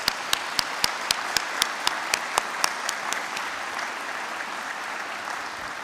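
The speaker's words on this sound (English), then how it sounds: "Please join me in a round of applause to celebrate the faculty." An audience at a college honors convocation applauds the faculty, with a few sharp nearby claps standing out over a steady wash of crowd clapping that slowly thins toward the end.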